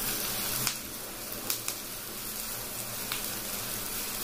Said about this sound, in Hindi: अभी अम्मी जी ने प्याज जो है वो इस घी में डाल रही हैं। एक दो मिनट तक इन प्याजों को पहले भून लेना है घी में।